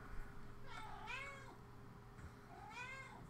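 A cat meows twice, two drawn-out rising-and-falling cries about two seconds apart, heard fairly close over a steady low hum and faint background noise.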